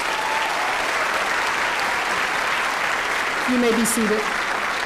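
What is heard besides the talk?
applause for graduating seniors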